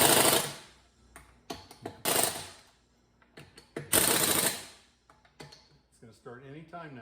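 Mallet blows seating parts onto the wheels of a 2012 Mercedes S550 W221 during a snow tire change: several loud, sharp impacts in separate bursts, each ringing out and decaying, with quieter knocks and handling noises between them.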